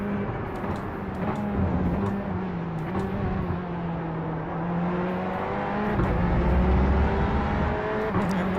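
GTE race car engines in iRacing, including a Porsche, hold a steady, droning whine with small shifts in pitch as the cars run close together.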